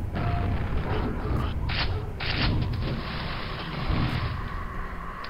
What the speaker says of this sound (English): This is really hard to shoot those things down with the grenade launcher as I'm trying to do right now